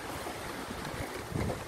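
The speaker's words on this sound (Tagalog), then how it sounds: "So, nandito lang kami ngayon sa Tinuyan Falls." Water pouring down the three-tiered Tinuy-an Falls in Bislig City, a steady broadband rush with no clear breaks, heard outdoors through light wind buffeting on the microphone.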